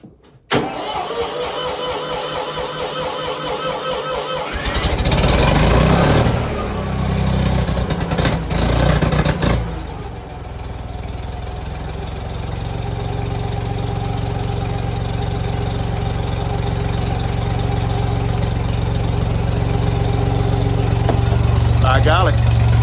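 A 1972 Ford F2000 petrol three-cylinder tractor engine cranks after sitting two months, catches with a loud roar, then settles into a steady, rough, close idle that runs on to the end.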